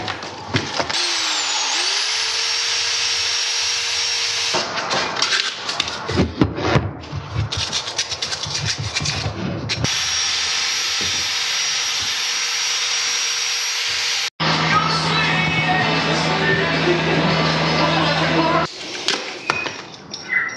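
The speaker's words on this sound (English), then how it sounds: "I'll wire wheel now a couple of parts which still had some serious rust on them." Wire wheel on a plugged-in power tool grinding serious rust off motorcycle engine parts, loud and close with several start-stop bursts, spin-up whines and scraping passes, then a steady droning run near the end.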